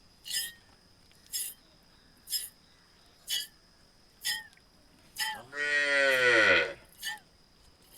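A small young calf on a home farm gives one long, rising bellow near the close, set among a steady series of short, sharp taps.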